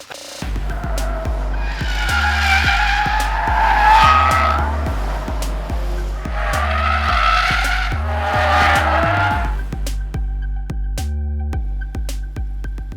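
Mazda MX-5 and Toyota 86 sports cars are driven hard on a race track, engines revving loud and near through repeated rising gear runs, with tire squeal as they corner and pass, then fading to a steady drone.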